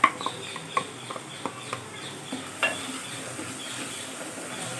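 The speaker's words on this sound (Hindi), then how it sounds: "इस मसाला पेस्ट को इसमें भून लेते हैं" Ground masala paste frying and being stirred into a sprouts curry, with soft continuous sizzling and scattered scraping clicks of a spoon against the pan, steady and close.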